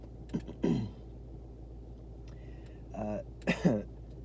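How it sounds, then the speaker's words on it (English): Two short, dry coughs sound close by in a quiet room, separated by a pause, with a brief throat sound in between. "It's a dry cough."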